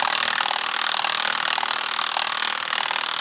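Battery impact wrench loosening bolts on the lower swivel of a worn Merlo telehandler, a steady, loud, close hammering buzz with no break for the whole stretch and no talk.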